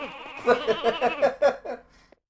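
Sheep in the video game Ratchet & Clank: Going Commando let out a run of wavering bleats, about seven quick cries close together, fairly loud and with no talk.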